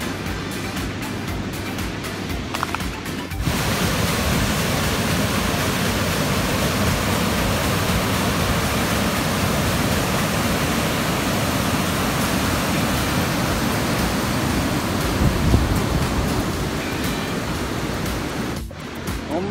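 Steady, loud rush of water flowing at the Bacurato dam, a continuous broadband roar with no talking.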